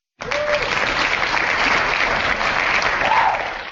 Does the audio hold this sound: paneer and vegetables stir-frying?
no